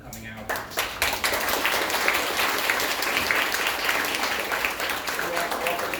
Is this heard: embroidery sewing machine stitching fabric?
no